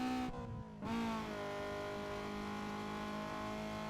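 A game car's engine in Need for Speed Underground 2 holds a steady high rev with a harmonic-rich whine, broken by one brief dip near the start, loud and alone without talk.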